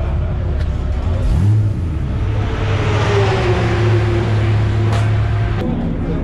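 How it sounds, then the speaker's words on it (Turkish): A Volkswagen Golf TCR approaching on a busy road, its engine rumble steady and close amid other traffic noise, with a brief low rising tone partway through. "Bakın bir tane Golf TCR geliyor."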